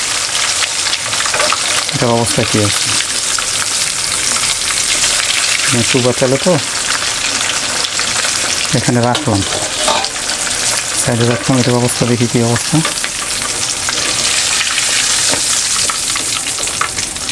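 Chicken legs frying in hot oil, a loud, dense, unbroken crackling sizzle filling the whole stretch while a person talks intermittently over it.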